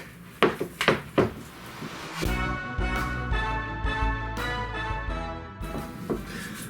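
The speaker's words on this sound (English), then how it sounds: "So you just take a big wooden spoon, cream it around in here." A big wooden spoon creams room-temperature cream cheese in a bowl for a Nanaimo bar cheesecake, giving a few close, hollow knocks and scrapes early on before sustained music takes over and masks the stirring.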